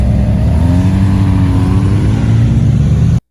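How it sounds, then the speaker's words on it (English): A 2025 Ram TRX Mule test truck revs its exhaust on the road in Detroit, with a loud, steady, rough low rumble that holds for about three seconds before cutting off abruptly. "someone sent me some video clips of a 2025 Ram TRX Mule running around Detroit doing some testing. And I gotta say, it sounds like crap"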